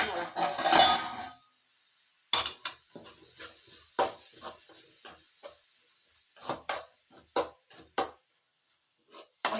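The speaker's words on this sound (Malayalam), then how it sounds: "ഇനി ഇത് നന്നായിട്ട് ഇളക്കാം" Beetroot thoran with coriander and chilli powder being stirred in a pan, a short noisy burst at first, then a series of separate spatula knocks and scrapes against the metal at an uneven pace.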